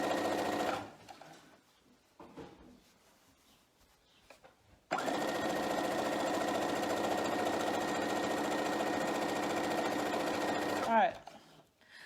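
Sewing machine stitching a fabric face mask: a short burst of running stitches, a pause with faint handling, then a long steady mechanical whirring run that stops abruptly.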